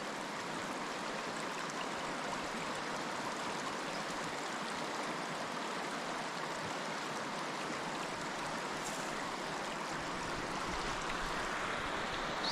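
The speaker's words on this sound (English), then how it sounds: "So this is the first pre-creek, and then you've got the big fast flowing one up the back." A big, fast-flowing creek rushes steadily at a campsite, a continuous even wash of water that stays moderately loud and close throughout, with no voices.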